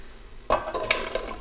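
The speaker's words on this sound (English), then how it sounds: "So I'll put these into the boiling water now." Baby carrots and vegetable chunks drop into a pot of boiling water, a sudden splash and clatter after a quiet bubbling start, followed by a couple of smaller splashes and a steady watery sizzle, close and without speech.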